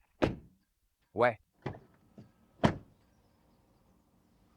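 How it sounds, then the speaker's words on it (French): Doors of a 2026 BMW iX3 shut one after another, four or five solid thunks spaced about a second apart with brief latch clicks, close and clear, with a short spoken remark. "le bruit de fermeture des portes"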